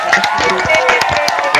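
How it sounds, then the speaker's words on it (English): A round of applause from the audience at a polytechnic impromptu speaking competition: dense, close clapping mixed with crowd noise and a few cheers, steady throughout. "please join your hands together and give everyone a round of applause."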